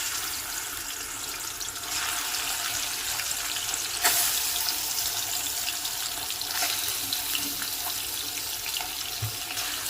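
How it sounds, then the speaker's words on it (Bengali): Shrimp fry in hot mustard oil in a wok, giving a steady, dense sizzle that stays constant throughout, with a few faint clinks and no voices. "তেল গরম হয়ে গেছে, আমি চিংড়ি মাছগুলো প্রথমে ভেজে নেব।"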